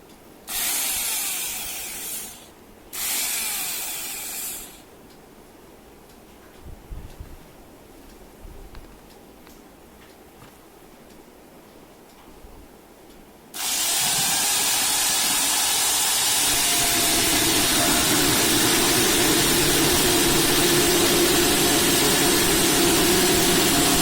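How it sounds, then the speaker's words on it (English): Power drill boring drainage holes through a plastic pot or curd bucket planter, a loud steady whirring grind that starts around the midpoint and runs continuously to the end, after a few short bursts and quiet handling noises. "we are ready to drill some holes"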